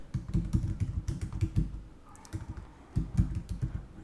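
Someone types code on a computer keyboard in quick, uneven bursts of close clicky keystrokes, pausing briefly midway before resuming.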